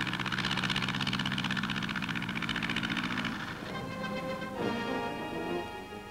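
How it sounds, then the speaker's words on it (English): A wingless model plane with a 130 horsepower motor takes off, giving a steady, loud droning engine hum that holds evenly and shifts slightly in tone toward the end. "A perfect takeoff and capable of making 3 miles a minute."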